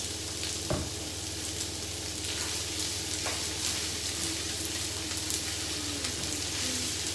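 Hibachi-style fried rice with yum yum sauce frying on a home griddle, a steady, close sizzle running throughout with faint scraping stirs and no talk.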